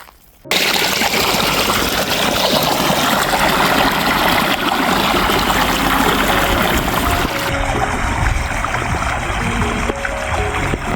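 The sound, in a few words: irrigation water flowing into farm field channels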